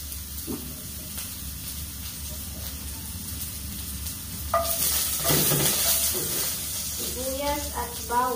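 Onion and garlic sauté in a pan with a steady soft sizzle and hiss, swelling louder partway through as stirring adds scraping bursts, while a voice speaks briefly near the end.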